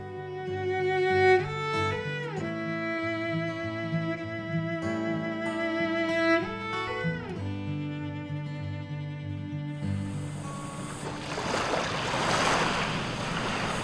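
Long, overlapping boat horns sound across Sydney Harbour, then give way to a rushing wash of wind and waves near the microphone.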